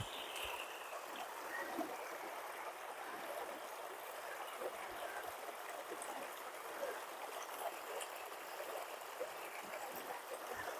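River water flowing along the San Pedro House Trail in Arizona, a steady soft broadband rush heard from a few feet back, continuous and even with no talk.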